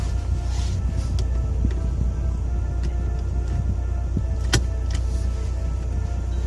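Suzuki Ertiga 1.3 diesel car pulling away from a stop, heard from inside the cabin as a steady, low engine and road drone with a few faint clicks and no talking.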